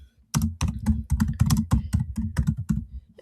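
A computer keyboard clatters with quick, uneven keystrokes as a channel name is typed, sharp close clicks coming in short bursts with no voices.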